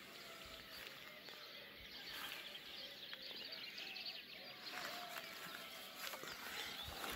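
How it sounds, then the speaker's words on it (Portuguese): Birdsong at dawn on Graciosa island: scattered chirps and short calls, fairly faint and distant, carry through steady outdoor ambience with no talking. "com este som ao fundo dos pássaros magnífico"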